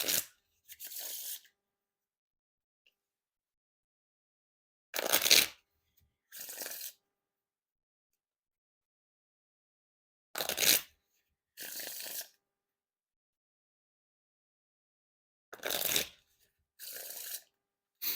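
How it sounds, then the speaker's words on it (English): Playing cards are riffle shuffled in short crisp bursts, each a quick fluttering rattle followed by a softer bridge riffle, repeated three times with silence between. "Now time for the riffle shuffle or bridge shuffle"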